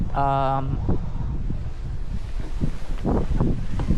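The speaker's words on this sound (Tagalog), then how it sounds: "Very windy." Strong wind roaring against the microphone among mango trees outdoors, a steady rumbling buffeting throughout, with people talking over it.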